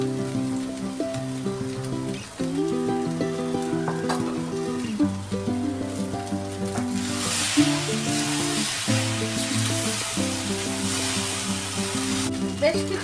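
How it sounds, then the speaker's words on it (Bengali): Fried potatoes, beans and carrots sizzle steadily in a pan while polau is cooked, a continuous bright crackle with a low musical tone underneath and no speech. "আগে থেকে ভেজে রাখা আলু, বিনস, গাজর এগুলো দিয়ে দিলাম।"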